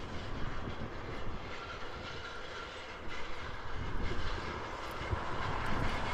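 Aircraft arriving on the reef runway at Honolulu airport, heard from a distance as a steady, broad engine roar with wind, continuous and fairly loud throughout.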